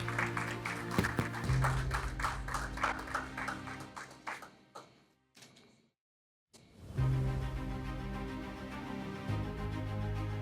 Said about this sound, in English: A round of applause for them as they take to the podium.